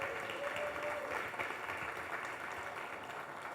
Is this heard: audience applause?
yes